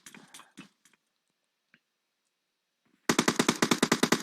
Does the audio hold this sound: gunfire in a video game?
yes